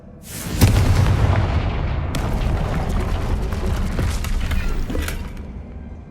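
A Confringo fire spell blasts a wall in a Hogwarts Legacy dungeon: one loud deep boom bursts at the start, then a long rumbling roar of debris and crackling fades slowly over several seconds.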